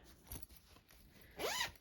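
Zipper on a lightly quilted fabric project bag, a faint short zip early followed by a louder, quick rasping pull near the end, close to the microphone with no speech.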